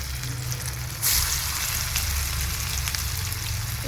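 Gram-flour-batter pakoras fry in overheated oil with a loud, steady, close sizzle and crackle that swells slightly as more batter goes in, and no voices.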